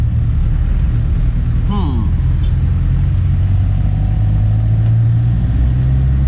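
A 1997 Land Rover Defender 300 TDI with manual transmission drives through city streets, its rough diesel engine a steady loud rumble inside the cabin, with a person talking over it.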